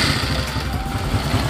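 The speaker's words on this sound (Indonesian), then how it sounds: "jadi motor dia bisa stasioner dengan normal tanpa nyendat-nyendat ya" A Honda Supra X 125 motorcycle engine idles steadily up close, a continuous even low putter with slight mechanical clatter and no stumbling, heard alone without talk.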